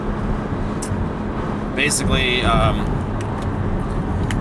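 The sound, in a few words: road traffic noise while driving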